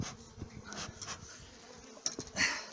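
Honey bees buzz in a soft, steady drone at close range, with a few louder swells rising out of the hum.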